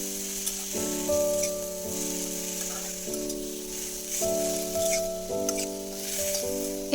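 Boiled cabbage and potato sizzle in a frying pan as they are stirred, a soft steady hiss with scraping stir strokes, while a steady tonal hum with shifting pitches sits underneath.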